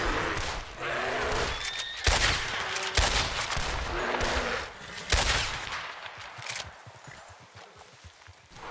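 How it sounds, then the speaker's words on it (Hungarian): Loud, booming gunshots from a rifle during a bear hunt in the video game Red Dead Redemption 2, several heavy reports spaced seconds apart, each with a rolling tail, over steady outdoor game ambience. "Az az első lövés betalált."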